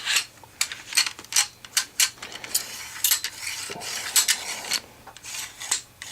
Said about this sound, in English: Now, when dry cycling like this, when it's not fully assembled, it may hang up at certain points.